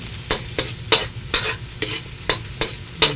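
Onion sautéing in a pan for spaghetti, with a steady low sizzle broken by about nine evenly spaced scraping stirs, close and moderately loud, with no talking.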